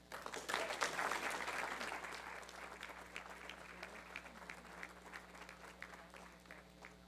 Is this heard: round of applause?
yes